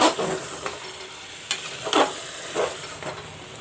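Steady sizzling of mutton frying in masala, with occasional stirring scrapes rising above the hiss, close and moderately loud.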